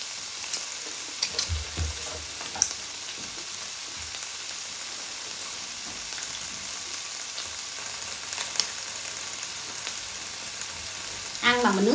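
Pork belly sizzling and frying on a grill at a Wagyu beef barbecue meal, a steady close crackle with brief louder pops and a sharper burst near the end.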